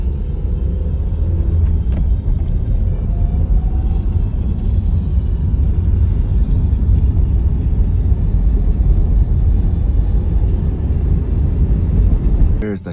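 A Toyota MR2 driving at night with stock OEM headlights, heard from inside as a steady, loud low engine and road rumble that runs unbroken for the whole stretch, with no talking.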